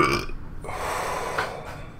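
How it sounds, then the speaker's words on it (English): A loud, drawn-out human burp heard alone during a TOXIKK first-person shooter gameplay session on the map Foundation, rumbling for about two seconds with a sharp start and a swell near the end. "I should probably learn to not burp so loudly."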